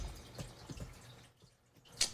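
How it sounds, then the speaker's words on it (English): Soft trickling and dripping water from a fish tank, gentle and close, fading to near silence before a brief sharper splash at the end. "if you hear that water running, that's my fish tank"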